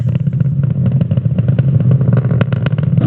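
Falcon 9 rocket climbing through supersonic flight on a Starlink launch, a loud continuous rumbling roar with crackling engine texture and steady low-end power, running without pause and heard alone.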